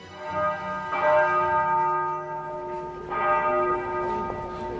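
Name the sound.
morning church bells ringing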